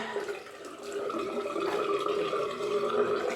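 Warm water runs from a tap, a steady, close hiss and splash, heard alone for a few seconds.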